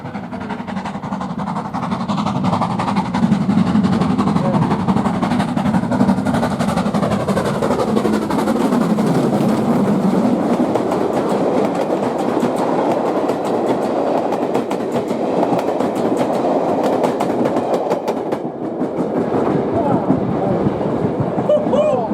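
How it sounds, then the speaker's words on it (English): Black 5 steam locomotive 45305 hauls a TPO train through a station at a steam gala, a loud sustained rumble of wheels and rail clatter with a pitch sweep as it passes close by, filling the whole stretch. "Finally, the TPO train blasts through the station, taken by Black 5 locomotive"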